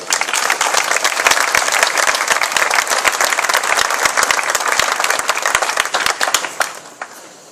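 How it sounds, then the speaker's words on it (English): A large audience gives a big, loud round of applause welcoming a speaker to the stage, dense continuous clapping with sharp individual claps standing out, tapering off at the very end. "I would like to have a big round of applause for Lars Hajslund."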